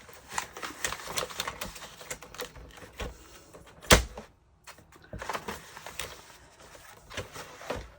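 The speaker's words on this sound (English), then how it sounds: "I want to cut the top off of this, I think." A paper cutter trims paper for an accordion-fold craft, making a string of soft scraping and clicking sounds with one sharp clack midway, fairly quiet and close with no talk.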